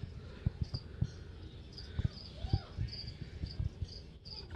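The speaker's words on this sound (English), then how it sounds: "I'm hearing crickets. They've had some crickets get loose." Loose crickets in a pet store give high, repeated chirps in short bursts across several seconds, with soft thumps and rustling closer by.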